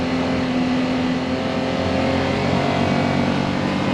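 A UTV engine pulling in low gear, a steady droning hum with a constant tone that holds evenly throughout, fairly close and with no speech.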